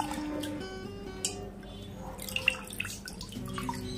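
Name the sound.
gently washing pumpkin flowers in water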